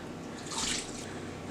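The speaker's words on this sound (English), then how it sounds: "New water, time to rinse again." Tap water running into a bowl or sink while flour dough is rinsed for homemade flour chicken, a steady close splashing flow that swells louder at the end, with no talking.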